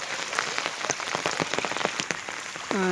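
Steady rain patters densely on surfaces during a flood, close and loud, with many distinct drop impacts, and a brief voice begins right at the end.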